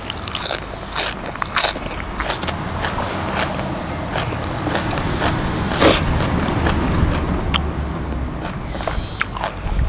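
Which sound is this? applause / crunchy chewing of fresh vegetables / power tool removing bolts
crunchy chewing of fresh vegetables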